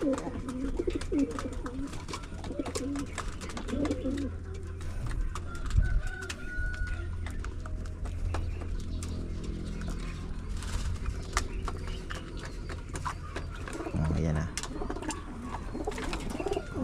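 Low pigeon coos repeat amid steady outdoor noise at a pigeon loft during bath time, with scattered clicks and occasional other bird calls.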